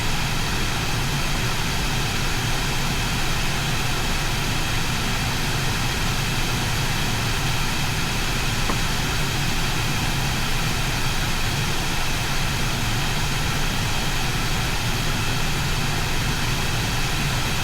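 A light aircraft droning in flight over North Wales, its engine and propeller noise a loud, unbroken roar that fills the cabin steadily throughout with no break in level.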